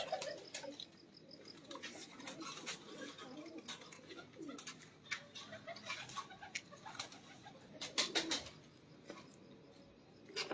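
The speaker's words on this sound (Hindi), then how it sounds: "ये जी दीवान साहब वाले जो कबूतर है उनमें से ये कबूतर है" Pigeons from a prized pigeon-keeping line coo softly and repeatedly at a moderate distance, with low, faint background voices and a few scattered chirps.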